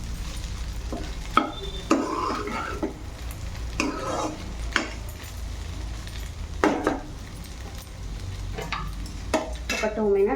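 A ladyfinger (okra) and tomato curry with coconut is stirred in a pan over a steady sizzle, with scraping strokes and occasional clinks of the spoon against the metal.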